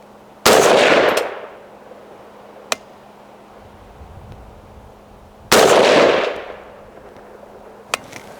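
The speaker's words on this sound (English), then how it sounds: "Let's shoot this thing a little bit." Palmetto 300 BLK truck gun firing outdoors: two loud, close gunshots about five seconds apart, each with a long echoing tail, and faint metallic clicks in between.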